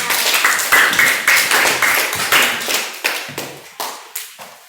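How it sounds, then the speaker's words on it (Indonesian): Schoolchildren in a classroom clap for a student group, a close, loud burst of brisk hand claps that settles into a ragged rhythmic beat and thins out toward the end. "boleh tepuk tangan buat kelompok 3"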